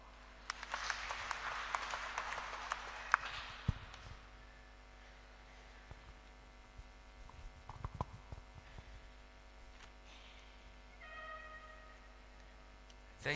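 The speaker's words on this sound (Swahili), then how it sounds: "Makofi." Congregation applause at a church service, a soft, diffuse burst of clapping in the first few seconds that dies away, followed by scattered knocks, shuffles and a faint later murmur.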